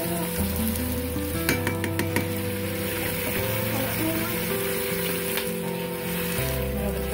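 Chopped garlic sizzling in the hot pot of an Instant Pot, a steady, fine crackling fry that holds at moderate level throughout, with a few louder pops and stir sounds early on.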